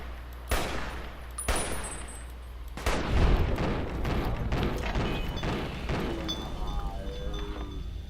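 Rapid gunfire from Fallout: New Vegas at Camp McCarran, with sharp repeated shots early on giving way to a dense, continuous fusillade of overlapping bursts and thumps that carries on to the end.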